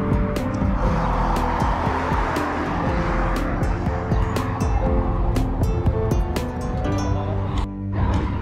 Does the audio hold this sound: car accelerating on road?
yes